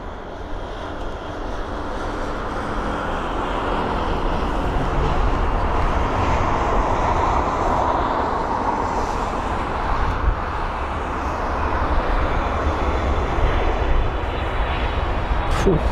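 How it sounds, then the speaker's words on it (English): Qatar Airways Boeing 777-300ER airliner arriving at London Heathrow from Doha, a loud sustained jet engine roar that builds and holds steady as it nears, with a broadband rumble and no talk. "a Qatar Airways 777-300ER with the reg Alpha 7 Bravo Echo Whiskey, or A7BEW, and this is arriving from Doha"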